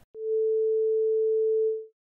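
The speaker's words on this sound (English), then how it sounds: "here is 440 Hz" A steady 440 Hz sine tone, an A note generated in Audacity, holds one pure pitch for about two seconds with clean onset and fade, alone with no other sound.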